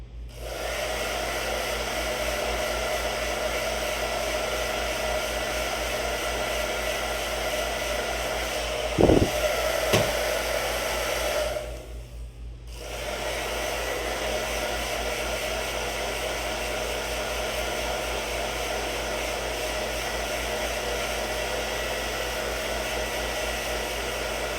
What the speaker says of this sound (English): Actually, I might do that right now, because I have a hair dryer right here.